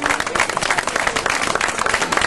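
A crowd applauds steadily, with dense overlapping claps that stay loud and even throughout.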